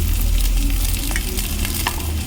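Eggplant sizzling as it fries in a hot pan with onions, a steady dense crackle and hiss throughout with a faint low hum beneath, no voices.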